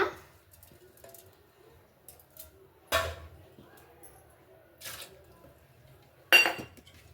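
Soaked tamarind, garlic, onion and cumin go into a blender jar, giving a few close, sharp clinks and clatters spaced a couple of seconds apart against a quiet kitchen background.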